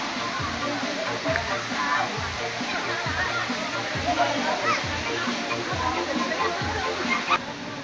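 A waterfall bathing spot pours with a constant, loud rushing of falling water, with splashing from people in the pool below and voices mixing into the roar.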